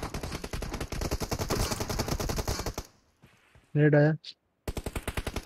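Automatic gunfire in the mobile game PUBG Mobile, long rapid bursts of machine-gun shots, then a pause with brief voices before another burst resumes.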